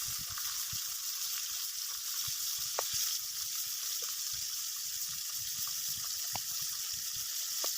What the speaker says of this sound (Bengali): কড়াই গরম করতে দিয়ে তাতে পরিমাণ মতো তেল দিয়ে দিলাম এবার মাছগুলোকে আস্তে আস্তে এর ভিতরে দিয়ে দেব